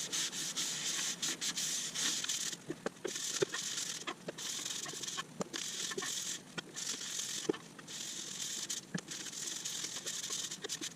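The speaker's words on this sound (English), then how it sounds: "Let's put a bit of sanding sealer on" Sanding sealer is worked onto a walnut live-edge bowl in a woodturning shop, heard as repeated rhythmic rubbing strokes of even loudness, close and alone with no talking.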